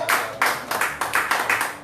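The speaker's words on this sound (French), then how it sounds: "vous pouvez libérer une acclamation à notre Dieu" Congregation clapping in acclamation to God at a church service, a rhythmic run of about eight sharp, evenly spaced group claps, close and loud, with no talking over it.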